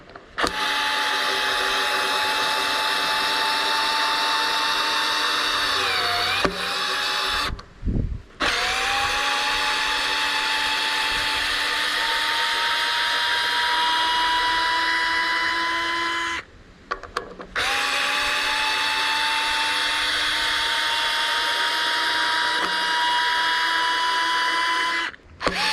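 A Fanttik Nex L1 cordless screwdriver runs at a set torque, its steady motor whine loud and continuous in three long bursts, each ending with a brief pause and a dip in pitch as the clutch slips.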